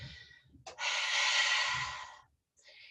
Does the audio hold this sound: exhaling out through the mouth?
yes